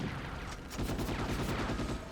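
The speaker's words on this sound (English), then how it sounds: "especially gunshot noises tend to be the same" Gunfire in the Ghost in the Shell PS2 video game sounds as a dense, rapid burst of many shots in quick succession, loud and continuous throughout, with no talk over it.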